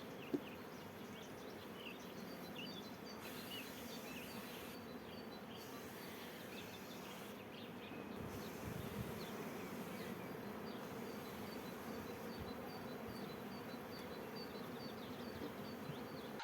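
Honeybees buzz steadily around hive frames during chalkbrood treatment, a dense, continuous close-up drone that holds level throughout with no talking.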